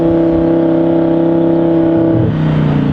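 A car exhaust revs hard at high RPM, loud and close, holding a steady droning tone before the pitch drops off near the end.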